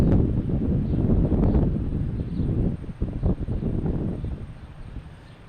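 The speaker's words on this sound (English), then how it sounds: "Wow, really windy." Strong wind gusts outdoors at Logan Airport buffet the microphone with a continuous low, rumbling roar that swells and dips, loud and close, with no speech.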